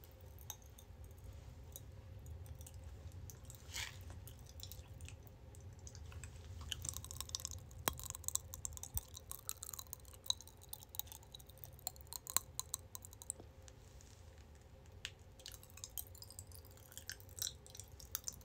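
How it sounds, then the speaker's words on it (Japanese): Someone eats Pachi Pachi Panic popping candy, giving a soft, quiet run of fizzy crackles and tiny clicking pops against low background noise. "これがパチパチパニックです。"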